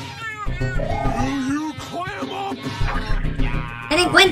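A human voice imitates a cat, repeating drawn-out meows in quick succession, loud and close, with rising and falling pitch and no other sounds.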